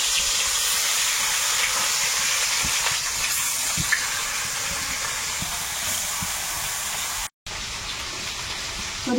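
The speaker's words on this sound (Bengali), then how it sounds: "ওদিকে মাছ ভাজা হচ্ছে," Fish frying in a pan in a village kitchen: a continuous, loud, broadband sizzle and hiss runs throughout with little variation, broken by one brief gap near the end.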